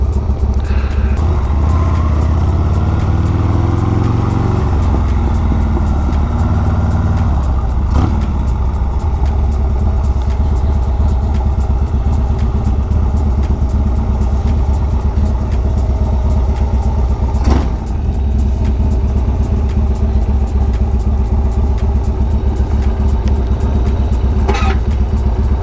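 A cheap used Harley motorcycle, started after sitting for three years, runs loudly and close by with a steady rumbling engine, some clatter and a brief rev rising early on, continuous throughout.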